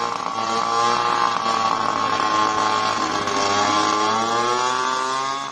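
A drone's small engine runs flat out at very high speed, giving a loud, steady, high-pitched buzzing whine with strong harmonics that wavers slightly in pitch throughout, with no voices.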